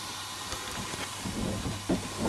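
The boiler of a Jensen 35 model steam engine hisses steadily as it comes up to pressure, a constant loud rush of steam with a few soft clunks near the end.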